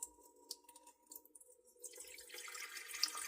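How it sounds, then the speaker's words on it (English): Water pours into a bowl for sourdough dough, a steady trickling stream that grows fuller and brighter toward the end, close and alone. "we are going to put the water in first"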